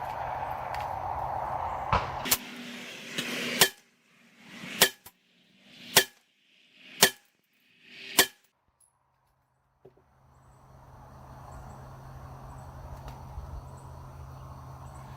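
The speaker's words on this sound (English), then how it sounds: "We'll shoot them back to back, see if warming the barrel has anything to do with anything." Six sharp gunshots from a pistol-caliber carbine crack out back to back at roughly one-second intervals, loud and near, each with a short ringing tail, followed by a quiet outdoor lull.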